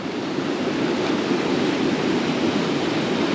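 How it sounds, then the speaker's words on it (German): Mountain stream water rushes steadily through a pipe near a waterfall in Ordu, Turkey, a constant loud broadband hiss and roar with no pauses. "Hier kommt das Wasser aus den Bergen. Fließt hier durchs Rohr"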